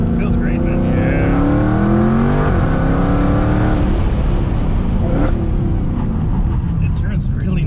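A Dodge Charger Hellcat accelerates with a loud, rising engine roar heard from inside the car that eases after a few seconds into a steady drone and road noise, with people talking throughout.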